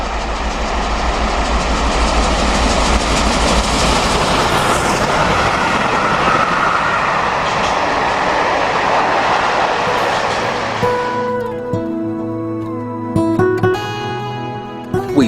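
Steam locomotive Bodmin on a 2000 mainline run through Deepcut, a loud sustained rumbling roar of the passing train that cuts off abruptly near the end, leaving a quieter rail hum with clanks.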